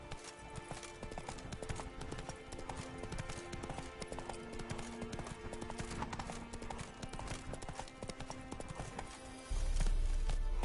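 Roach, the horse in The Witcher 3, gallops in a fast, continuous stream of hoof clip-clops under game music, ending in a louder rush.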